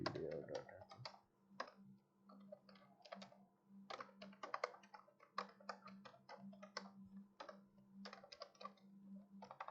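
Rapid, uneven clatter of keys on a computer keyboard while C code is typed into a Turbo C editor, close-miked and fairly quiet, with short pauses between bursts and a brief voice at the very start.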